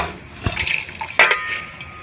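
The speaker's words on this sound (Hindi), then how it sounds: "पानी जो है वो और ऐड कर देंगे।" Water is poured into a cooking pot of mutton and chickpea curry on the stove, a close splashing gush with a brief clink of the pot, no talking.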